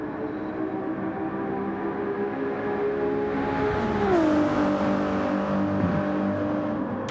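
Race car engines in a racing video game, a Ferrari and a Dodge, drone steadily along a long straight, with one engine's pitch dropping as it shifts gear midway before the roar carries on.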